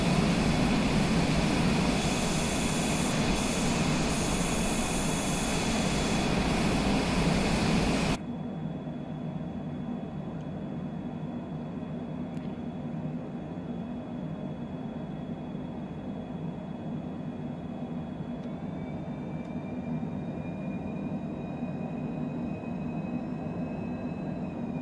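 A Cessna's piston engine drones steadily during a climb in Microsoft Flight Simulator 2020, heard as constant cockpit noise. It is loud at first, then drops abruptly to a quieter, steady hum partway through, and no voices are heard.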